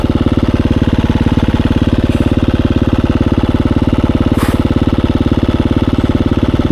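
A Husqvarna enduro dirt bike engine thumping close by in a fast, steady, loud pulse, with a couple of brief sharp noises over it.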